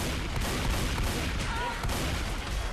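Heavy gunfire in Left 4 Dead 2, dense overlapping shots forming a loud continuous barrage with a brief ricochet-like whine midway, close and unbroken for the whole stretch.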